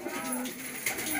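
Teddy pigeon, a Malwai breed kept by a pigeon fancier in Jalandhar, giving a brief soft coo with faint voices in the background.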